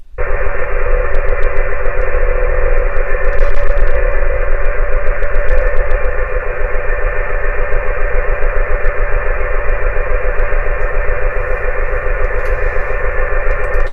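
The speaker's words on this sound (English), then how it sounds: "This is Navtex that I received on 517 kilohertz, so technically medium wave, long wave range, but this is what it sounds like" A Navtex data signal received on 517 kHz through a Yaesu FT890 radio produces a loud, steady buzzing warble of fast digital tones over hiss, unbroken for the whole stretch.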